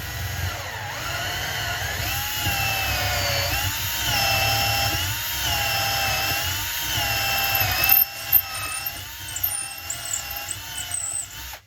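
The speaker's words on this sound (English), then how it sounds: "I'm going to take a 6mm drill bit, go through this hole." A power drill with a 6mm bit whines steadily at close range, its pitch dipping and rising as it bites through material, then sputtering in short bursts near the end.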